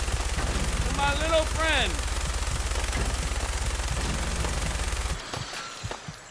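Sustained machine gun fire in Fallout 4, a fast steady stream of shots lasting about five seconds before cutting off, loud and close, with someone speaking briefly over it.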